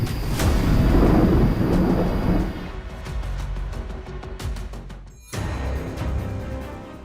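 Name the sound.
heavy cloudburst rain with thunder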